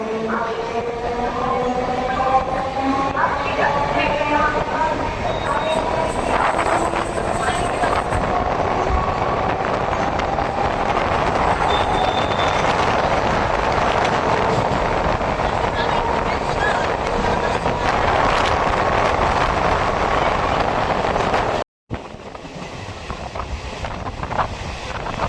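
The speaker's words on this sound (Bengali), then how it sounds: "এই মুহূর্তে আমাদের ট্রেন প্রবেশ করছে সোদপুর স্টেশনে" A suburban local train running from Bidhannagar Road toward Naihati enters Sodepur station with a steady loud rumble, wheel clatter and wind buffeting, plus squealing tones early on and a brief dropout near the end.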